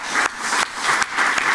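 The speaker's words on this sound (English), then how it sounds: "We'll have a round of applause maybe for that as well." Sustained audience applause at an international conference session, dense clapping from a hall full of people, fairly loud and steady with no talking over it.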